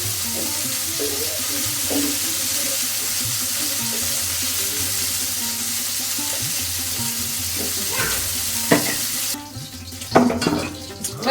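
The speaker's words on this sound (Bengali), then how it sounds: "মাছ ভাজা হয়ে গেছে, এবার তুলে নিচ্ছি।" Fish fries in oil with a steady, moderately loud sizzle. Near the end the frying gives way to clatter and splashes of water.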